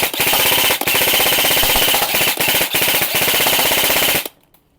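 E&C 603 airsoft gun with a 7-inch barrel firing full-auto bursts, a loud, close, rapid mechanical rattle broken by a few short gaps before stopping.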